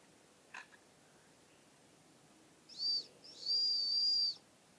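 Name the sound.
survival whistle being blown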